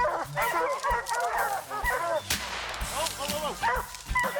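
Hunting dogs bay and yelp excitedly during a black bear hunt in a swamp, a dense, overlapping chorus of close, loud barks and howls with a sharp bang partway through.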